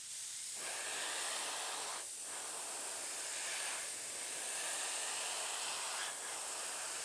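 An airbrush sprays paint onto a 1/35 Tamiya Sherman model tank in a continuous close airy hiss, swelling and easing in steady passes with brief dips between strokes.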